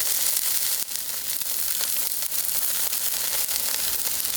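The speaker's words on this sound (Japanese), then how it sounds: "このね、音がずわーっと出ているのが熱々ですよっていう合図ですから" Tuna seared in a hot pan sizzles loudly and constantly, a dense, close frying hiss with a few faint clicks and no talking.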